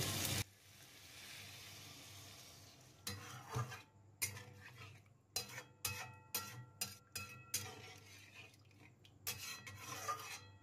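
Water poured into a hot pan for Bengali potato curry, with bursts of rasping sizzle and stirring scrapes that come in short, repeated surges after an opening splash, close and moderately loud.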